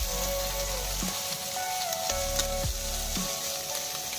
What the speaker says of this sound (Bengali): এখন মা তেল দিয়ে দিচ্ছে মাছটা ভালোভাবে ভাজার জন্য। ভাজা চলছে, কিভাবে আওয়াজ হচ্ছে শুনুন